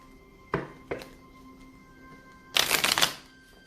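Two short riffles of tarot cards, then a longer, louder flurry of the tarot cards being shuffled, with a steady faint hum behind them.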